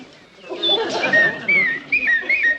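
A person in a sitcom scene whistles an imitation of a blue-tailed mountain warbler, giving several short, chirpy rising and falling whistles over a soft background murmur.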